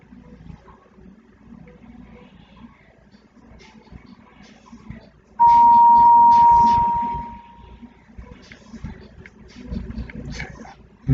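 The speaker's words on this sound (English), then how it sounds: "I'm getting a notification" A phone gives off a single steady electronic tone lasting about two seconds, loud and close, against a quiet room with faint movement.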